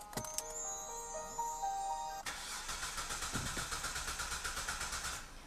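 A Kia Opirus LPG sedan with a weak battery cranks but fails to start. Dashboard chimes and beeps come first, then the starter churns in a rapid rhythmic whirr for several seconds without the engine catching.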